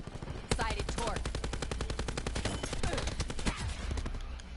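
Rapid automatic gunfire from Call of Duty Black Ops, a dense fusillade of loud close shots running steadily for several seconds with a short pause near the end.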